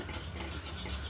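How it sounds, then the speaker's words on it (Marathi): Besan flour being stirred a little at a time into boiling water for Vidarbha-style patvadi rassa: a steady, close scraping and swishing of a spoon in a pot, repeating in soft strokes with no talk. "उकळ्या मोडत सर्व बेसन पीठ या पद्धतीने थोडं थोडं टाकून हटवून घ्यायचं"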